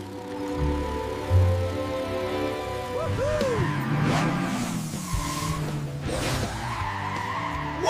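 Cartoon car skidding and drifting across a slippery supermarket floor spilled with juice, loud tire squeals rising and sliding in pitch over an engine drone, with whooshes and swooping effects layered on top.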